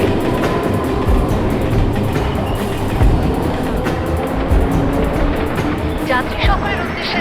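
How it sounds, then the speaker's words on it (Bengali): A 12-coach local train arrives at platform 12 of a busy station, its rolling rumble and rail clatter steady and loud throughout, with a faint whistle-like squeal near the end and crowd voices underneath. "যোগেশ্বরী টু আন্ধেরি যাওয়া লোকাল 12 নম্বর প্ল্যাটফর্মে আসছে। এটি একটি 12 কোচের গাড়ি।"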